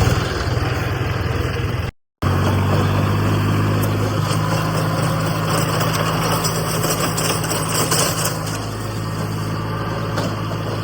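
Tractor engine idling steadily with a low, even drone and a rising tonal hum partway through, loud and close, no talk over it.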